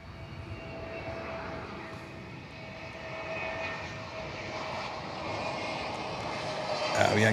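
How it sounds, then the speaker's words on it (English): An Avianca Airbus A320 at Miami Airport gives a steady, continuous engine roar that holds through the whole stretch and swells slightly louder near the end. "Avianca 320"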